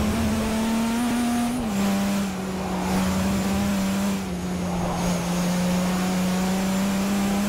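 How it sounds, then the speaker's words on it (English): A race car engine roars steadily at high pitch with a whining turbo, holding a near-constant tone with brief dips as it shifts, loud and close. "Listen to that turbo."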